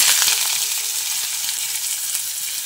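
Chopped onion frying with browned garlic in oil, a loud continuous close sizzle with faint stirring underneath and no talking.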